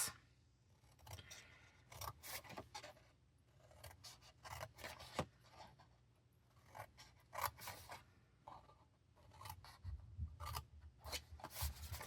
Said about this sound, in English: we're going to cut up on all our score lines, and we're going to remove some bits